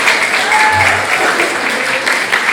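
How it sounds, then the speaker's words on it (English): Loud, sustained applause fills a room after a live song at a community talent show, many hands clapping in a thick continuous wash, close and even throughout with faint voices beneath. "Yeah, give another big round of applause."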